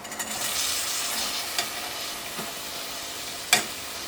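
Cut snake gourd tipped into a hot pan crackles with a steady frying sizzle, followed by a few scraping stirs and a sharp clatter near the end, close and moderately loud with no voices.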